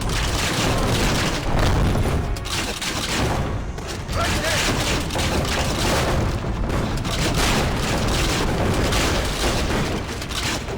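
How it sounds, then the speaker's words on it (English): Cannon fire in the Assassin's Creed Revelations video game sounds as a steady barrage of booming blasts and battle clatter, fairly loud, with a voice talking over it. "I'd recommend trying to hit them with the cannon."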